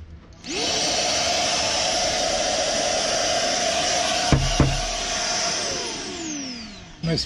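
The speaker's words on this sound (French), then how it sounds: "Un aspirateur qui marche encore." A salvaged vacuum cleaner at a Swiss waste recycling centre whirs on abruptly and runs at a loud, steady pitch with a brief bump partway through, then switches off.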